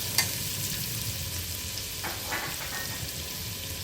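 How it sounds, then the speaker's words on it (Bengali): Finely chopped onion, about one medium onion, tipped into a hot pot for a winter vegetable soup, giving a steady close sizzle and frying hiss with a few stirring scrapes, no voices. "এবার আমরা এখানে অ্যাড করে দিচ্ছি ফাইনলি চপড অনিয়ন"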